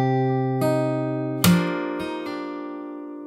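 Fingerstyle acoustic guitar playing a song passage, sustained ringing strings broken by a sharp percussive slap and a few hammered-on notes, close and bright.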